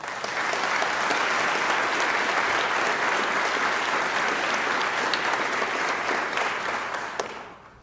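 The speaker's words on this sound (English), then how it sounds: "if you want to clap for something, clap for that." Audience applause at the 2009 Kalamazoo State of the City address: a dense, steady wash of many hands clapping that holds at full strength for several seconds before tapering near the end.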